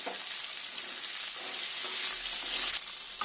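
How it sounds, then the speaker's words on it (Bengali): Pieces of pointed gourd (potol) frying in hot oil in a pan where potatoes were just fried with salt and turmeric, a steady close sizzle that swells slightly as the pieces are stirred. "এবার এই তেলে আমি পটলগুলোও ভেজে নেব।"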